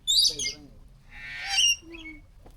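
Birds chirp and squawk at a bird feeding spot, with two bright bursts of high calls separated by a short pause, fairly close, while a low background murmur continues underneath.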